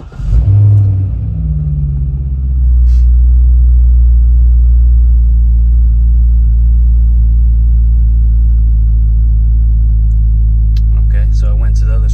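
A car engine cranks and catches, then settles into a loud, steady low idle rumble that holds for several seconds, with faint clicks near the end.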